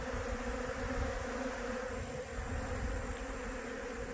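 Honey bees buzz steadily around a hive fitted with robbing screens and remote entrances, a dense, continuous close-up drone with no voices.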